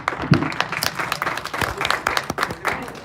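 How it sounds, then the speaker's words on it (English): Audience applause at a player auction for a Dataflake DPL 2024 league, a steady round of clapping from a nearby crowd heard mostly alone, with faint voices underneath. "Let's give a round of applause to Nadia."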